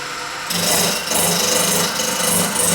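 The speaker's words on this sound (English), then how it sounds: "I'm gonna start roughing this project with a simple 90 detailer" A gouge roughing an ash and resin bowl on a woodturning lathe, a loud, continuous rasping, scraping cut that swells and eases slightly as the tool bites, close up with no talking.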